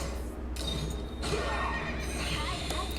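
A horse neighs in the strategy video game Langrisser M, a drawn-out whinny over clip-clopping hooves and other game effects, heard clearly from start to finish.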